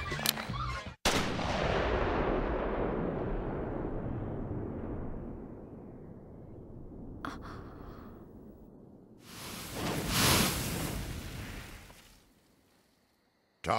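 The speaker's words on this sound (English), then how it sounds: "Alucard shot and silenced Target A. Senior Officer Ceres Victoria shot Target B." Gunfire in the anime Hellsing: a loud close shot with a long rumbling decay, then a sharp crack and a second heavy blast with a roaring tail that fades away.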